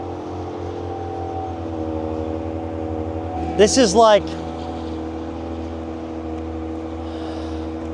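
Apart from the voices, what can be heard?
Ram Hurricane engine idling after remote start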